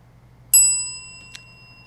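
A quiz contestant's bell on a podcast gives one bright, sharp ding that rings on and decays, followed by a second quicker tap shortly after, close and alone.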